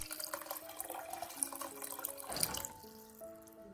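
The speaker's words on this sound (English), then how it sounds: "Next, add about 700 milliliters of water to the pot." Water is poured into a cooking pot that holds softened, mashed tomatoes, a steady splashing pour with a slight change in tone partway through, close and moderately loud with no talking.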